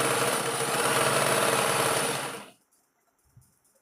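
A sewing machine stitching a coat pocket whirs in a fast, steady run for over two seconds, then stops abruptly, leaving near silence with a faint click.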